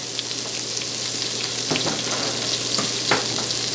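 Cooking fat melts and sizzles in an Instant Pot, a loud steady frying hiss with a low hum and a few light scrapes and taps.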